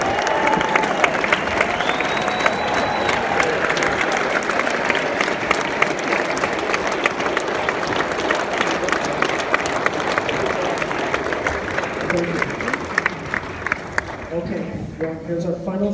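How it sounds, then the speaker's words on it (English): Concert audience applauding veterans at a jazz band performance, dense sustained clapping and crowd noise throughout, loud and continuous, thinning slightly near the end. "Let's give them a round of applause."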